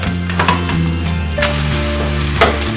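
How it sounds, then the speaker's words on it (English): Egg frying in melted butter that is starting to brown, a steady close sizzle running throughout with faint scrapes and light clinks on top, no voices. "When your butter has melted, add in the egg."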